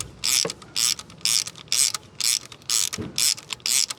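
A compression tester is threaded by hand into a spark plug hole on a Nissan Micra K11 engine, giving a close series of about eight evenly spaced ratcheting scrapes with a couple of soft knocks between them.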